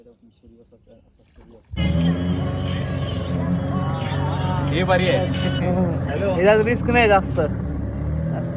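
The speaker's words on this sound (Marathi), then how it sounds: "इंजिन चालू केलंय" A boat engine at Malvan roars to life abruptly, then runs as a loud, steady, close rumble with a droning hum while people talk over it.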